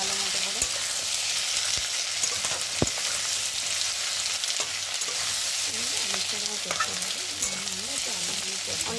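Sliced onions and potatoes frying in a pan while being stirred, a steady soft sizzle with scraping and clinking of the spatula against the pan, close and moderately quiet.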